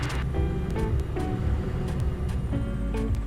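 A light aircraft taxis with its engine droning close by, a steady buzzing hum whose pitch shifts slightly over a few seconds.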